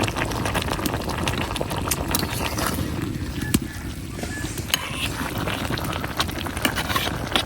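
A covered pot of fish curry with garden tomato, cauliflower, green chilies and coriander leaves simmers loudly, a dense bubbling, rattling boil that runs unbroken and close, with no one speaking.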